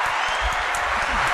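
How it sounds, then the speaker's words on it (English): Studio guests and crew applaud on a Hawaii talk show set, a dense steady patter of clapping lasting about a second and a half, fairly close and even. "Come on, give yourself some applause."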